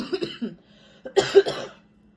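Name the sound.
coughing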